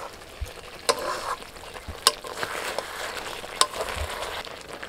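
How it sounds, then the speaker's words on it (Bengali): Marinated chicken chaap is stirred in a hot pan, a soft continuous sizzle broken by a few sharp scrapes of the spoon spaced roughly a second apart, close and fairly loud. "দশ মিনিট পরে ঢাকা খুলে একবার নাড়াচাড়া করে দিচ্ছি।"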